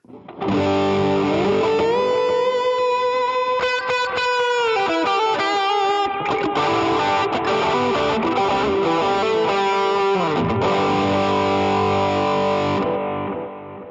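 An electric guitar runs through a Fractal AX8 with both drive stages, reverb and delay engaged, playing sustained distorted notes and chords with lush echo trails, loud and close, fading out at the end without talk.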